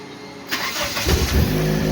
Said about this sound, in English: I'm gonna put the key back in the ignition, turn on the ignition.